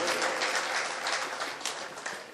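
An audience applauds at a Hindi-Urdu poetry recital (kavi sammelan and mushaira) in Tilhar: a short, dense burst of clapping from a crowd, steady and fairly close, with no talking.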